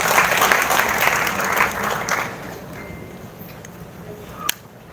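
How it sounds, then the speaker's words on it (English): Seminar audience applauding loudly at first, the clapping thinning and tapering off over a few seconds, ending with a single sharp knock. "Let's give a reward round of applause."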